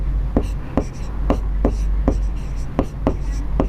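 Chalk or marker tapping and scratching on a board during a Class 10 coordinate geometry lesson, a steady series of short sharp strokes, about eight in under four seconds, over a low constant hum with no talk.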